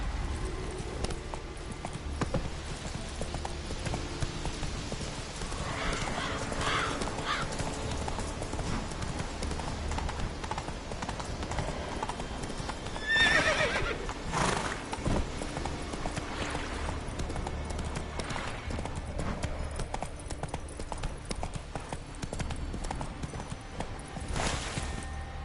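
A horse gallops in The Witcher 3, its hooves beating a rapid, continuous clip-clop rhythm close by, with a few louder bursts of movement along the way.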